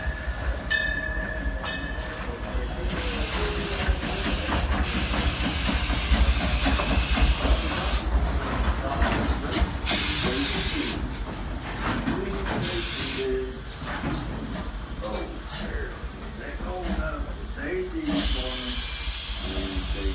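Steam train at the Silver Dollar City station in Branson, Missouri, hissing steadily with bursts of venting steam and rumbling rail noise, with people talking faintly in the background.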